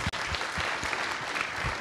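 A festival audience claps in a dense, continuous burst of applause at a startup pitch event, loud and close with no voices over it.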